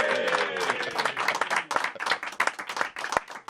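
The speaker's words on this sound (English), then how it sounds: "Would you give a big round of applause" Audience claps for a former football club player introduced as a guest on a show, a dense burst of applause that thins into scattered individual claps, with a few voices mixed in.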